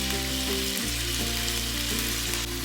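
Chicken pieces searing in a hot pan for a creamy chicken dish, a loud, dense, continuous sizzle close up, with a low steady hum underneath and a brief dip partway through.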